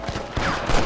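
Gunfire at rustlers in the video game Red Dead Redemption, a couple of sharp close shots cracking over a dense, noisy western battle din in a brief moment.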